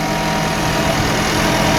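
The engine of a Landini dual power tractor idles on a farm, a loud, steady, close-up rumble with an even hum and no talking over it.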